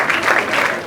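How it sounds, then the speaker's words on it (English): Audience applause at a book launch in Lagos, a dense wash of clapping from the crowd holding steady and fairly loud through the whole moment. "Another round of applause, please."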